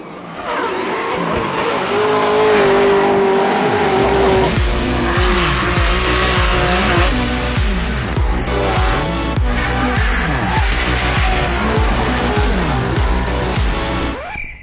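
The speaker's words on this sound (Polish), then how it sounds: "żeby ten samochód bokiem się napędzał przy takiej prędkości" A high-powered drift car screams past sideways at a Drift Masters event in Riga, engine revving hard as tires squeal in a long continuous slide, loud and sustained throughout.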